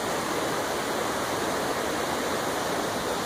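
A river flows steadily below a campsite on an April overnight hike along the Salmon River, a constant broadband rush of moving water with no breaks and no voices.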